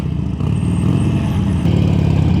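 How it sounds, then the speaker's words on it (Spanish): A Harley-Davidson 883 Superlow motorcycle's small V-twin engine rumbles loud and close, a throbbing low-pitched pulse with a brief throttle dip and recovery, steady and dominant with no talking. "es un motor de los más pequeños de Harley, pues no es una moto que no sea potente"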